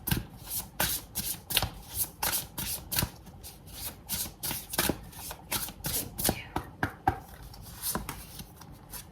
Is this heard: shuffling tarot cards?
yes